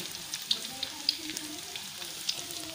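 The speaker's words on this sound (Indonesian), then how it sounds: "Dan kita masukkan cabai gilingnya sekarang, ditumis sampai wangi." Ground chili paste fries in a little oil with a steady close sizzle and faint crackles that pop now and then.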